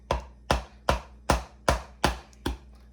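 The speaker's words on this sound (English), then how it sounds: "in order to crack the egg, you want to lightly tap it against the edge of the bowl" Egg tapped against the edge of a bowl, seven sharp, evenly spaced knocks in a steady rhythm, close and crisp with no talking.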